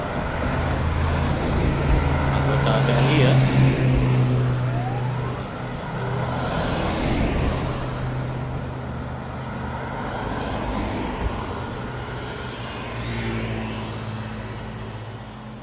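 A convoy of cars carrying soldiers near Mount Merapi passes in a continuous roadway roar, with engines swelling and fading as vehicles go by, loud and close, with a voice speaking briefly partway through.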